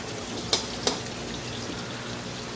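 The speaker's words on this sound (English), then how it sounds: "add a pinch of red pepper flake. And stir that around real good." Red pepper flakes stirred into a pot of black-eyed peas and collard greens: a steady close simmering sizzle with two soft knocks of the spoon against the pot, no talking.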